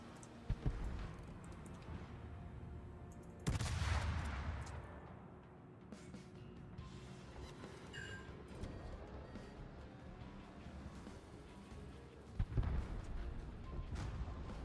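Warship guns firing in World of Warships, heavy deep booms with rumbling tails, a big salvo followed by later blasts, loud against quieter game ambience.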